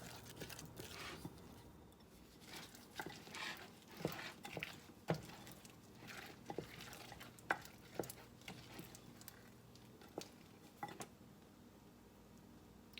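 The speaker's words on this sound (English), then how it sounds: "now we're going to go in and just start mixing them up, letting them get all coated with our batter mixture" Onions being stirred into a thick batter for Southern fried onion patties, with soft irregular wet stirring and scraping knocks against the bowl, close and moderately quiet, no talking.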